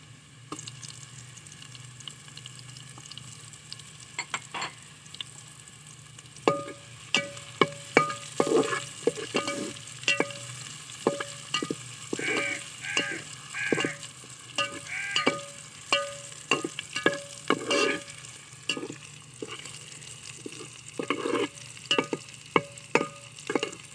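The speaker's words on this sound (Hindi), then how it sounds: "अभी अदरक इसमें डालेंगे।" Ginger goes into a hot pan for chicken pulao and is stirred, a steady sizzle broken by repeated sharp scraping and clinking strokes of a utensil against the pan, close and without speech.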